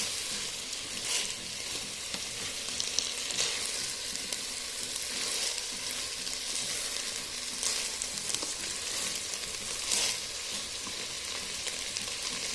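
Rice with mixed vegetables fries in ghee and oil for vegetable fried rice, giving a steady, close crackling sizzle with light stirring scrapes throughout and no voices.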